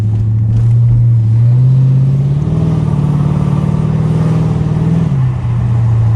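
A tuned 5.7 HEMI V8 rumbles loud and close, holding a deep steady drone that swells slightly as the revs climb and settle, with no talking over it.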